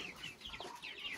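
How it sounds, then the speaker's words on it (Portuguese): A Brahma hen of no set colour, loose among free-range hens on a farm, gives a run of soft repeated clucks, close and moderately loud over low barnyard background. "Esse aí é uma galinha Brahma."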